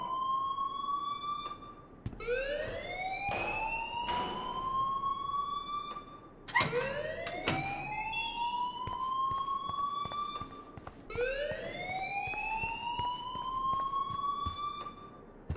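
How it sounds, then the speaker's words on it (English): A rising electronic alarm tone repeats in slow whooping sweeps, about four cycles, loud and continuous with a harsh synthetic edge, a fire alarm in the video game Life Is Strange. "please turn off that alarm since that's your job"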